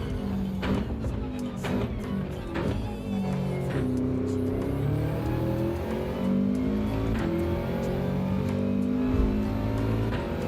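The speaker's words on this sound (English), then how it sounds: "But geez, the Mazda's quick here." A Mazda race car engine revs and accelerates, a continuous close drone that rises and falls in pitch through gear changes with no pause, and no voices on top.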